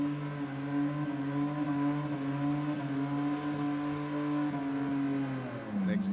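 A drag car doing a tyre-smoking burnout at Sydney Dragway, a loud sustained engine roar held at steady high revs for several seconds, then dropping in pitch near the end.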